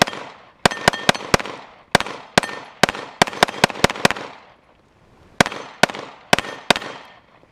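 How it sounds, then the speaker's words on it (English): A Canik TP9SFX pistol fires in fast, sharp shots during a magazine dump at about nine yards, in several rapid bursts of four to six rounds separated by short pauses. "Let's do a mag dump."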